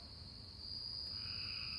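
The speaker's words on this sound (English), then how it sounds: "hearing the frogs and the crickets" Frogs and crickets call at night, a steady high-pitched insect trill joined by a second chirping voice over a low background, faint and distant with no talking.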